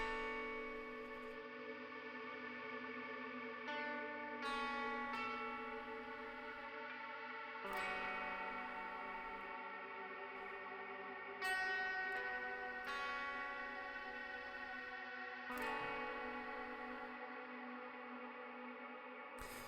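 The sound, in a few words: long drawn-out reverb on music chord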